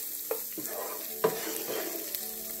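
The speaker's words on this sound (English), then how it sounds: "Give that a little stir." Vegetarian fried rice vermicelli (mee hoon goreng) is stirred in a hot pan, giving a soft sizzle and several scraping strokes of a utensil.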